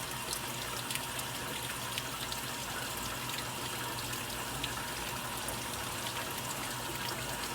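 Washing machines fill with warm water, a steady, even rush and trickle that carries on without a break at low level, with no voices over it.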